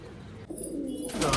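Pigeons in a breeder loft give soft, low cooing, a short murmured call rising over quiet room noise.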